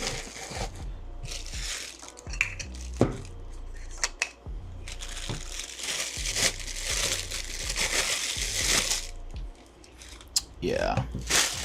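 Plastic and cardboard packaging of a Sigma RF-mount lens crinkles and crumples close up in repeated bursts, with someone talking in between.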